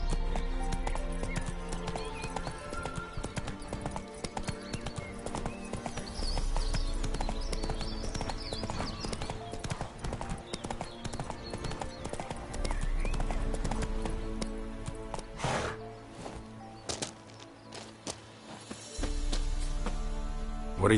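Hooves of the horse Roach clip-clopping along at a trot in the game Witcher 3, a steady rhythmic beat beneath music and game ambience, with a brief lull near the end.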